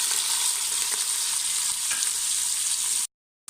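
Chicken breast cut into long julienne strips sizzles loudly in a pot, a steady dense hiss of frying that runs alone without talk, then cuts off abruptly near the end.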